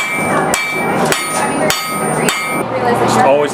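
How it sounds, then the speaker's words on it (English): Blacksmith hammering iron on an anvil at a Lacombe Days fair demonstration: sharp metallic strikes land about every half second, close and loud, with ringing tones and crowd murmur underneath. "The anvil is where the blacksmith would have used the hammer to hammer out different shapes for the iron."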